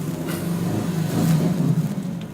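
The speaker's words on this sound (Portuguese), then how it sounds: "Vou esperar o carro passar." A car drives past on a street, its engine rumble swelling as it nears and peaks mid-way, then fading slightly, fairly loud and close with no talking.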